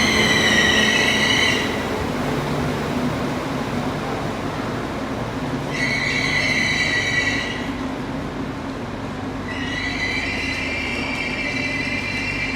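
A Northern passenger train passes through Nottingham station, a loud, steady rumble of wheels on rails with three recurring bouts of high, ringing flange squeal as it rolls close by.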